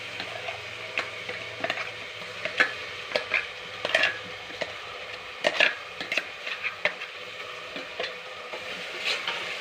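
Ginger and green chilli paste frying in coconut oil for a potato-thickened curry, giving a low, steady sizzle with scattered sharp clicks and scrapes of stirring, near and fairly quiet, no voices.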